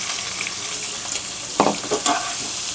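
Mutton masala with tomato and garlic frying in a pan, a steady sizzle with a few louder scraping stirs of the spoon toward the end.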